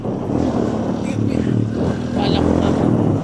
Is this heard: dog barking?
no